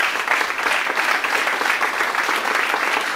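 Audience at a Socialist Party New Year gathering in Clabecq, Walloon Brabant, applauding steadily, a dense continuous patter of many hands, close and even in loudness with no pauses.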